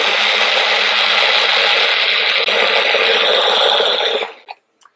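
A blender mixing a banana smoothie, a loud, steady whir that runs close and unbroken for about four seconds, then winds down and stops, followed by a couple of small knocks.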